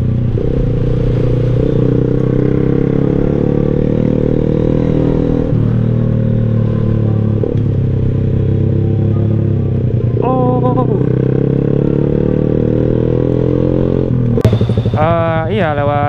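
A clutchless motorcycle engine drones steadily throughout, rising in pitch as it revs near the end, with road clatter and occasional voices mixed in, on Indonesian city roads.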